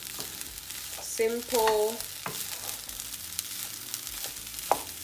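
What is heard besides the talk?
stirring egg and pork fried rice in a sizzling pan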